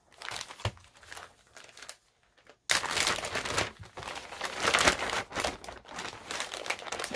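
Paper from a thrift store and estate sale haul being crumpled and handled up close, with crinkly rustling that pauses briefly, then resumes louder and more continuous.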